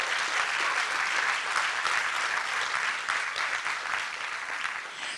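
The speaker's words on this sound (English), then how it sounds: "Let's give them a huge round of applause." Audience applause fills a conference hall at a civic awards event, a dense steady clapping that holds at full strength throughout and eases slightly at the end, with no voices over it.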